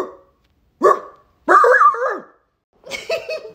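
Person imitating a dog, giving three loud barking calls with pauses between them, close and alone with no other sound.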